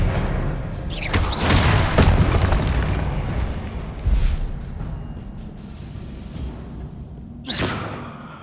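Booming spell blasts and whooshing bursts cast in Hogwarts Legacy on PlayStation 5, a loud crackling impact near the start followed by two more sharp bursts later, over a dense rumbling game backdrop.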